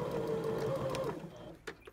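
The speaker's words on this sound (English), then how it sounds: "we're going to be joining both sides and sewing" A sewing machine stitches two sides of fabric together for a strapless top, giving a brief, steady, fairly quiet motor hum nearby that cuts off near the end, with no speech.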